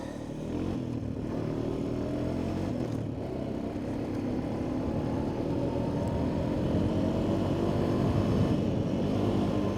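A Honda Foreman 450ES ATV with shifting and possible engine problems is held wound out in fifth gear at about 39 mph. The engine drones steadily and loudly throughout, with a slight rise in pitch and no talking.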